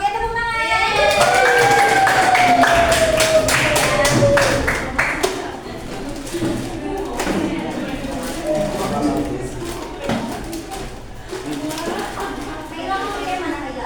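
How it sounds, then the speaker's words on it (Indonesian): Students in a classroom clap their hands together, a lively burst of close claps over a whistle-like tone that thins into scattered taps amid children's chatter. "Oke, tepuk tangan"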